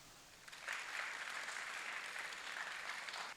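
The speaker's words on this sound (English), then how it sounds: "I want you, the contestants, to give them all a round of applause" Parents and coaches at an oratorical world championship applaud on request, a soft, distant patter of clapping that swells in about half a second and holds evenly for nearly three seconds before ending.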